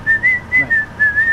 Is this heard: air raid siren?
no